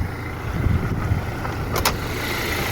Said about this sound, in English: Now the engine is running